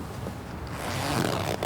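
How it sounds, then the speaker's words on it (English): The zippers of a car bed for a child are drawn shut, a short rasping scrape that builds over a second or so, close by and fairly quiet. "Close the zippers."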